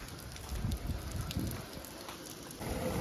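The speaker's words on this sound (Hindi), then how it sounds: "रात के टाइम पे ये बारिश बड़ी टाइट हो रही है।" Heavy night rain pours steadily in Karachi, a dense, continuous hiss of drops on road and surfaces, fairly close and with no voices.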